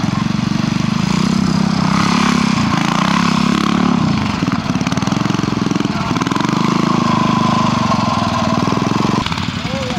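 A 350 rigid Royal Enfield motorcycle engine runs at a hill climb, a steady loud throbbing rumble held close for the whole stretch with a slight dip and rise midway, while a commentator talks over it.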